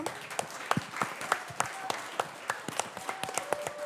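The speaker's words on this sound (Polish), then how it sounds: "ja bym chciała jeszcze Was poprosić o ogromne oklaski dla naszego gościa specjalnego" Faint, sparse applause from a small audience for a special guest at a panel discussion on working in banking, with scattered individual claps and light voices beneath.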